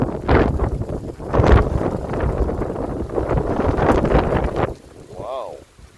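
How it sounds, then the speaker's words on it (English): A strong outdoor wind gust roars across the microphone for several seconds with broad rumbling buffeting, then drops away abruptly near the end. "That's a big gust of wind."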